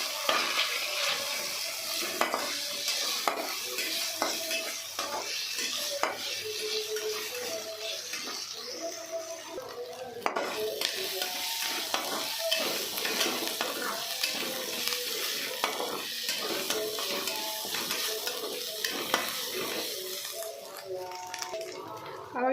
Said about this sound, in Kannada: ಇಲ್ಲಿ ನಾನು ಇನ್ನೊಂದು ಪ್ಯಾನ್ನಲ್ಲಿ ಸ್ವಲ್ಪ ಆಯಿಲ್ ಹಾಕ್ಕೊತಾ ಇದ್ದೀನಿ ಒಂದು ಆನಿಯನ್ ಸ್ಲೈಸ್ ಮಾಡಿ ಈ ಥರ ಹಾಕ್ಕೊಂಡು ಫ್ರೈ ಮಾಡ್ಕೊತಾ ಇದ್ದೀನಿ